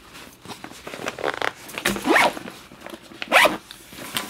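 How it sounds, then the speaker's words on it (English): The zippers on an everyday-carry laptop backpack are pulled open in several rasping strokes. Two longer zips stand out near the end, close and clear. "The zips come down about a quarter of the way, maybe almost halfway down."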